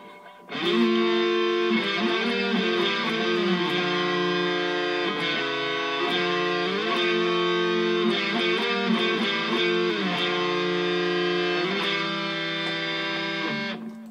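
Distorted electric guitar plays a melodic line in two-part harmony in thirds, notes moving together step by step, steady and sustained throughout with no talking.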